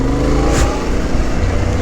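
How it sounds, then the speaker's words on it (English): A 2021 Yamaha Tenere 700 adventure motorcycle on stock tires rides in the dirt, its engine droning loud and steady close to the microphone, with rumbling buffeting throughout. "This is so weird riding such a big bike in the dirt."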